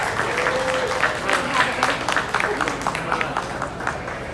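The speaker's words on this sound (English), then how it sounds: "So let's give him a round of applause." Audience applause at a market lamb show ring, a crowd clapping in a steady rattle with a faint tone and some voices mixed in underneath.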